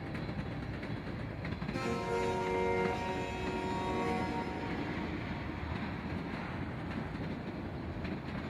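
Arizona and California Railroad freight locomotives rumble through the Cadiz interchange yard in the Mojave, a steady low roar with brief droning engine tones and rolling rail noise, fairly distant and unbroken by speech.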